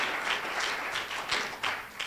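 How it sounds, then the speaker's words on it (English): Audience applause at a Christmas Carol stage show, a steady patter of many hands clapping at moderate distance, continuing without talk for about two seconds. "So you guys can clap for her."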